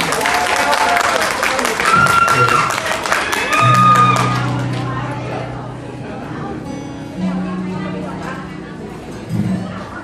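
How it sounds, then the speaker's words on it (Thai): A live audience claps in a sustained burst of applause at a Thai stage event, loud and close at first before easing back, with talk and tonal music sounds mixing in as the clapping thins out. "ขอเสียงปรบมือเป็นกำลังใจให้ด้วยนะครับ"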